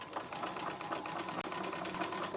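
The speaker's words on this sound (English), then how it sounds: "We're aiming to just sew this in a nice straight line." A sewing machine stitches fabric in a steady, continuous rapid whir at close range, with one brief pause near the middle.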